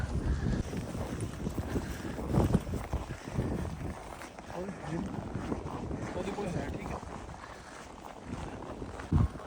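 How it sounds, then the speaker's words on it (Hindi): Strong wind blows outdoors on a Moscow street, a steady broadband rush with gusty surges and buffeting close to the microphone. "हवा चल रही बहुत तेज"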